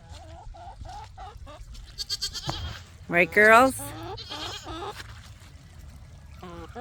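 Farm goats bleating nearby, with several wavering cries and one loud, drawn-out bleat in the middle, while someone talks to them in a warm voice.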